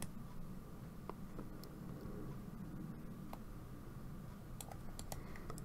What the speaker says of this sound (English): you can click on the shift key